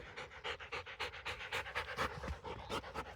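A dog at an animal shelter pants hard after running around, with quick, rhythmic breaths close to the microphone, steady for a few seconds with no talk.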